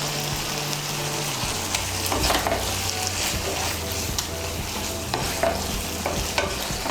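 Egg being stirred into chicken in a hot pan for a dhaba-style chicken bharta: a constant sizzle overlaid with repeated scraping and stirring strokes from a spoon, fairly close and loud, without speech.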